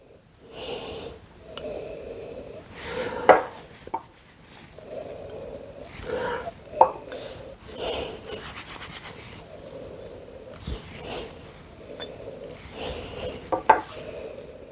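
Repeated short bursts of nasal sniffing and snorting at glasses of VSOP cognac, close up, in quick irregular rounds separated by brief pauses, with occasional soft breaths.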